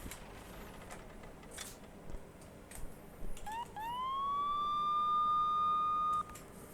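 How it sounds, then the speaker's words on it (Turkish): A truck's police siren in a trucking video game sweeps upward and holds a steady, piercing wail for a few seconds over low background rumble, then cuts off abruptly. "Tırda da siren var."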